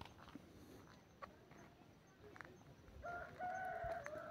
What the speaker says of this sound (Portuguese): um galo cantando lá para baixo